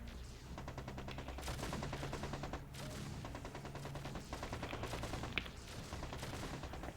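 Rapid bursts of mech weapons fire in the MechCommander 2 video game, a dense and continuous fusillade of repeated shots with a few sharper cracks, loud and steady throughout with no talk.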